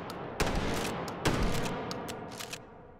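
Shotgun blasts in the VR game Hot Dogs, Horseshoes & Hand Grenades: two loud, sharp booming shots about a second apart with echoing tails, followed by a few fainter clicks and clacks of handling the gun.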